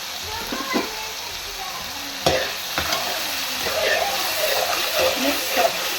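Chicken white karahi with black pepper being stirred in a pan, a continuous sizzle broken by scrapes and knocks of the spoon, close up, with a voice talking over it.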